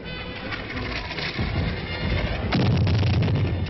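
Enemy artillery and mortar rounds impacting on a battlefield as an attack force advances, with two heavy, rumbling blasts a few seconds apart, loud and close, followed by lingering rolling noise.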